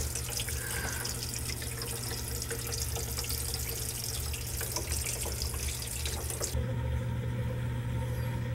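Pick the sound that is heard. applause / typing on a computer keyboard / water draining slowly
water draining slowly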